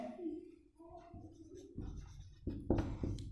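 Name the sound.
writing during a math lesson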